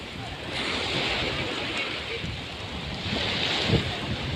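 Ocean waves surge beneath a floating bridge at Kuzhuppilly beach in Vypin, Kerala: a continuous, rushing wash of surf mixed with heavy wind buffeting the microphone.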